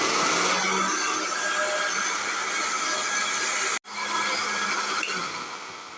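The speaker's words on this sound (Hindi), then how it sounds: "मोटा मोटा सा हम पीस लेंगे।" An electric blender grinds tomatoes coarsely for a homemade chutney, a steady loud whirring drone that cuts out briefly and then starts again, with no talk over it.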